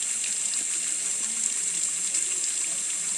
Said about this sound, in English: So I will add water to one hand, rub both hands together again